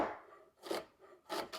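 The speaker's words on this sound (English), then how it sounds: "I've got some tomatoes that I'm gonna dice up and throw in as well" A knife dices tomatoes on a cutting board for Italian wedding soup, giving a few quick, close chopping bursts in an uneven rhythm with short quiet gaps and no talking.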